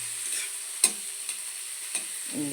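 Vegetables and potatoes frying in white oil in a pan, a bright continuous sizzle with a few sharp scrapes of a spatula stirring, close up and steady, no voices over it.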